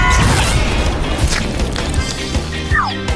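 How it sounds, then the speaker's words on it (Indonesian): A chocolate fountain bursts with a loud crash and boom, followed by splattering and clattering noise over a continuous loud background. "Ini akan meledak."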